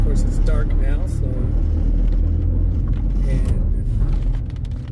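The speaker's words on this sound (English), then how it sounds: "I'll give you a shot of what it's like to come off a ferry boat" Vehicles drive off a ferry boat at night in the rain. A steady, close engine rumble and road noise run throughout with a dense low hum, and faint speech-like sounds mix in.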